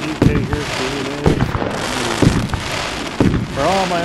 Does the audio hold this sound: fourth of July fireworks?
yes